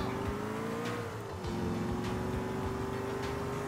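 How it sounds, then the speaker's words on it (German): An engine starts and idles outside an open window, a steady throbbing rumble with a slight dip in pitch partway through, heard from a short distance. "Jetzt noch ein Motorrad an, glaube ich."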